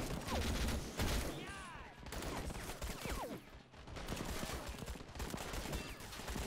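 Gunfire in the video game Call to Arms, with dense, continuous bursts of shots and automatic fire in a noisy firefight, plus occasional voices in the mix.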